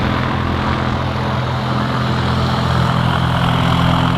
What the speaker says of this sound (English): Aircraft on final as well.